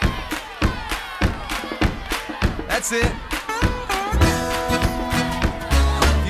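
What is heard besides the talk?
group clapping hands together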